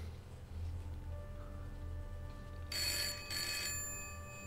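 A telephone rings in the Broken Sword adventure game, two bright, buzzy rings close together that clearly cut through the quiet room ambience.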